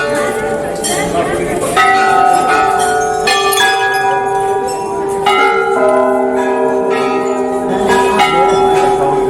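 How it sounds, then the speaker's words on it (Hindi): Many temple bells at a hillside shrine in Almora ring together, overlapping bright metallic strikes and long sustained tones, loud and close, layered continuously throughout. "तो इसमें भी घंटियां लगी हुई हैं, देखिए।"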